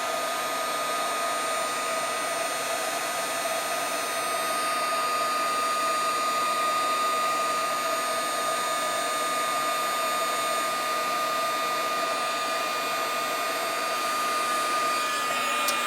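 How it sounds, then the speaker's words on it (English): A craft heat gun blows hot air with a loud, steady whooshing hum that holds unchanged throughout, close by and alone with no talking. "And now I'll get this gun warmed up a little bit again."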